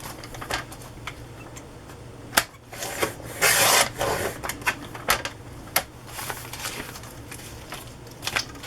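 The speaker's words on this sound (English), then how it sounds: "so I have to trim them up better." Paper envelopes being trimmed for a handmade glue book: close, crisp cutting and scraping strokes, with sharp snips and rustling paper at an irregular pace, no talking.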